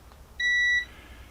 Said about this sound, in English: we should be able to hear the beep